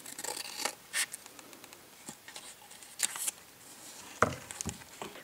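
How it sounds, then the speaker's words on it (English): Scissors snip through printable paper doll clothes in short, quiet cuts, with irregular clicks and rustles of paper spaced across the moment. "I'm going to cut this open."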